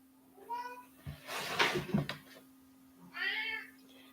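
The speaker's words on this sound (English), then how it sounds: "Cat's trying to get into the bag." A cat trying to get into a bag meows twice, near and clear, with rustling and handling noise between the calls and a steady electrical hum underneath.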